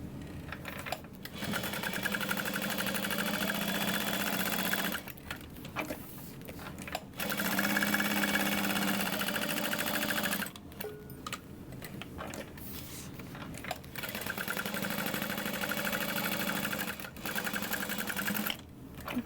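A sewing machine bastes around the edges of a bag's front lining, running in bursts of rapid mechanical stitching broken by short pauses, close and steady, with no voices.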